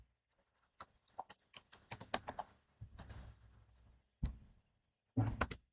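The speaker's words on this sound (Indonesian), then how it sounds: "selanjutnya kita ketik ulang" Keys clack on a computer keyboard as Linux container commands are typed, in quick irregular bursts of close, crisp taps with short pauses and a few heavier strokes.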